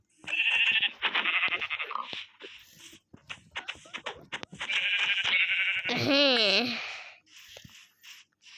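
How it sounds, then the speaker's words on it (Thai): Sheep bleating in a Thai game, a wavering, pitch-bending bleat rising loud near the end among other busy game sounds and chatter-like noises. "เฮ้ยแกะ"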